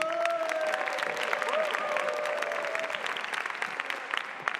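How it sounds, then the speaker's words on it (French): Audience applause at a public pitch event for project leaders in Quebec, steady dense clapping throughout at moderate distance, with a brief murmur and tonal ringing early on. "je vous demande d'applaudir les gens qui arrivent"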